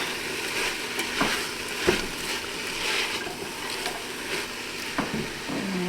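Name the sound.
stirring cabbage into sausage soup in a pot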